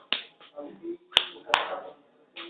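A person demonstrates hand clapping during a talk on how women's prayer differs, producing a few sharp, loud claps spaced irregularly, with brief bits of voice between them.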